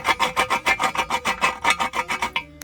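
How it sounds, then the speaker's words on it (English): An oversized drill bit turned by hand chamfers the painted edges of holes in a 4T65E transmission pan, making a quick rhythmic rasping scrape, about a dozen close strokes, stopping abruptly. "usually I'll go with another oversized drill. Just to kind of break the edge of the paint so there's nothing really for it to snag onto."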